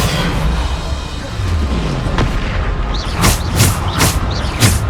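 Bombarda blasting spell explosions in Hogwarts Legacy, a run of four sharp, loud blasts in quick succession near the end, following a rumbling stretch of combat noise.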